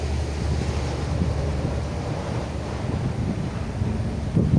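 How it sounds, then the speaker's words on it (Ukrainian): Strong wind buffets the microphone in a constant roaring rush outdoors in a rose garden, with low rumbling gusts throughout and no voices. "Вітер дуже шалений, не знаю, буде чуть вам чи ні."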